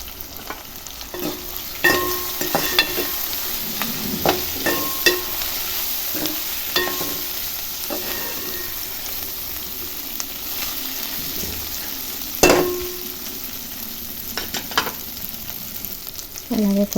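Cut okra pieces sizzle steadily in a hot pan while a spoon scrapes and stirs them in repeated short strokes, close and fairly soft, with no talking.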